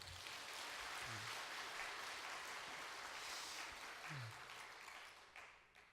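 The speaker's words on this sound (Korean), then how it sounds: "박수 한번 주시겠습니까?" A congregation claps continuously during a church service, a dense, fairly distant patter of applause that fades away toward the end.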